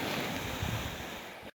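Floodwater rushes through a flooded area in Bosnia, a dense, continuous roar of moving water with wind-like hiss, loud and steady for a brief moment before cutting off abruptly.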